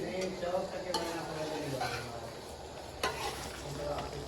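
Karahi curry bubbling and sizzling in a pot, a steady broadband fizz with occasional stirring scrapes and clinks running throughout.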